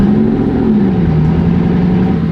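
A Bugatti engine revving, loud and close, with a steady heavy drone whose pitch sags slightly and then holds, filling the whole moment without a break.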